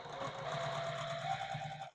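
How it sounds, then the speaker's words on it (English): Sewing machine stitching layer-cake quilt pieces for a wonky woods quilt, a steady close whirring hum with rapid mechanical needle rhythm, running alone for two seconds before stopping. "All right, so then we just stitch it down."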